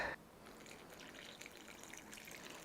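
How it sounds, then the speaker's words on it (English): Water being poured into a bowl of cornstarch to make oobleck, a steady splashing, trickling pour heard up close and fairly faint, with no talking. "You just add water."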